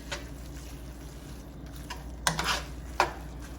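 Butter being stirred into a cacio e pepe pasta sauce in a pan: soft, close scraping and swishing with a couple of sharper utensil clicks against the pan over a low steady background.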